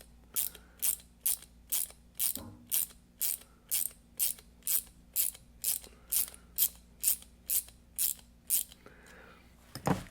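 A ratchet backs out the power screw on a truck's fuel injection pump: roughly twenty crisp, evenly spaced clicking bursts, close by and alone in a quiet room.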